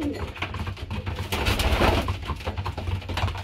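Pigeons coo in a pigeon loft, with repeated low, throaty calls overlapping one another, close and fairly loud, over rustling and shuffling movement.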